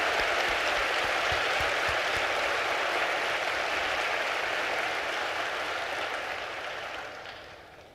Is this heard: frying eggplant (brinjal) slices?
no